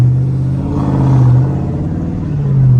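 The engine of a Dodge Charger Scat Pack rumbles loud and close, its deep tone swelling and easing in short revs over a few seconds.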